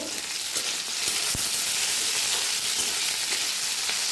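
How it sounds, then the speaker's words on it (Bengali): Potatoes fry in a pan with a loud, dense, continuous sizzle that swells as they are turned, plus a single sharp knock of the utensil. No voices are heard. "আলুগুলো আরেকবার ভালো করে উল্টে নেব"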